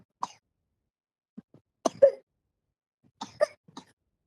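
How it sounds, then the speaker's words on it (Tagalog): Several short, sharp coughs come in two or three small bursts separated by quiet pauses, fairly close and with no talking. "Ubo ng ubo."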